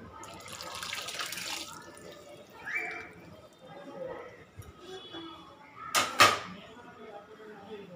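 Six litres of boiled milk poured into a large pot of bamboo shoot sambar, giving a steady watery splash at the start and a brief louder gush near the end, with low background noise between.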